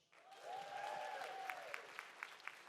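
A crowd at a conference plenary session claps in celebration. A swelling wash of applause with a rising cheer or whistle is followed by a few sharp, separate claps near the end, all moderately distant.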